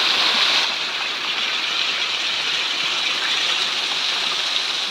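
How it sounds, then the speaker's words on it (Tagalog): A forest waterfall gives a steady, loud, hissing rush of falling water that stays constant throughout, with no talk. "Nandito na kami guys sa may falls."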